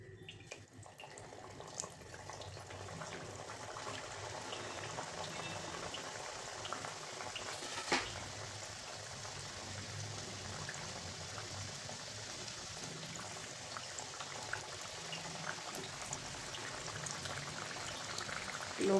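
Batches of layered matar kachori deep-fry in hot oil, giving a steady bubbling, boiling hiss at moderate level for the whole stretch, with a brief clatter partway through and no talking.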